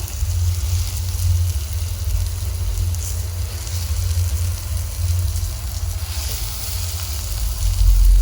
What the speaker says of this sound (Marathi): आता ह्या मसाल्यामध्ये आपण हे जे सारण भरलेले वांगे आहे हे टाकून घेऊया